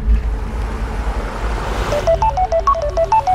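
Mobile phone ringtone chiming a bright stepped melody that starts partway through, rising over a steady low rumble of background noise.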